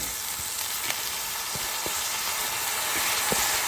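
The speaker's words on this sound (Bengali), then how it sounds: "এখন আমি চালটা ঢেলে দিব।" Rice poured into a pan of lightly browned frying onions, producing a steady, close sizzle with soft scattered ticks and stirring scrapes, and no talking.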